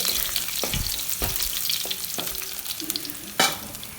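Ginger and onion sizzle steadily in a hot pan while a utensil scrapes and clacks against it in a few separate strokes.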